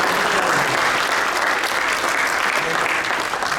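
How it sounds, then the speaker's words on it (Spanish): Congregation at a Sunday church service clapping together, a dense, loud, even burst of applause that holds steady throughout. "¿Cuánto le damos un aplauso al Padre Celestial?"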